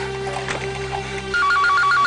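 A telephone rings with a repeating electronic tone, starting about two-thirds of the way in over a background drone with no speech, loud and close.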